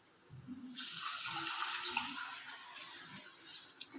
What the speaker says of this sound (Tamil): இப்போ நம்ம 2 கப் கெட்டி தயிரை எடுத்து வச்சுருக்கோம்